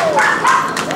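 A dog at a convention fursuit dance competition gives a couple of quick, sharp yips close by, with crowd noise in the background.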